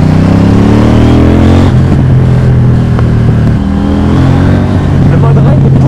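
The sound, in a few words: KTM Duke 790 motorcycle engine revving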